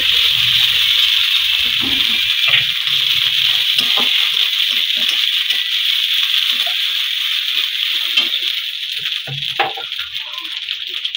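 Water is poured into a pan holding ginger and turmeric, giving a steady close-up splashing and trickling that runs without a break throughout.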